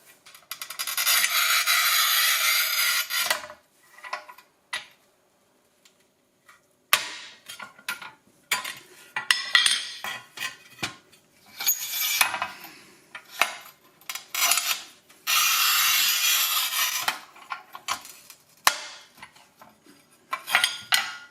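A Parkside 400 mm manual tile cutter scores and snaps ceramic floor tile, 8 mm thick and almost 32 cm long, giving long gritty scraping strokes with sharp clicks and snaps between them, close and clear with no talking.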